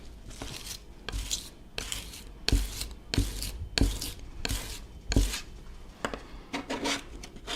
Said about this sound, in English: just keep pulling your knife over it, drag it, and then you'll pick up all this garlic juice